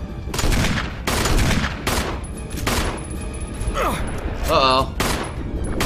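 Gunshots from the video game Resident Evil, several sharp bursts spaced about a second apart, with players talking and exclaiming between them.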